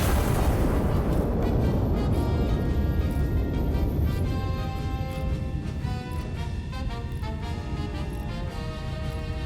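A heavy artillery gun fires in the tactical artillery sim Iron Nest: one loud, deep boom that rolls out and decays slowly over several seconds while a game music score plays underneath.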